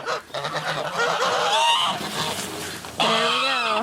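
Farm geese honk repeatedly, close and loud, a busy overlapping chorus that swells again near the end.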